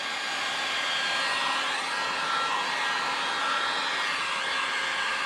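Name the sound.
heat gun drying water-based airbrush paint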